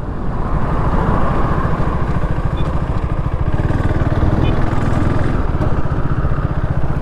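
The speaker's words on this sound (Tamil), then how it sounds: "அந்த ரேவ் பண்ணும்போது ரட்டா அந்த சவுண்டுக்காகவே இந்த வண்டி ஓட்டலாம்." A KTM RC390 motorcycle engine drones loud and close while riding, a steady rough throbbing note with dense rapid pulses and constant wind rush throughout.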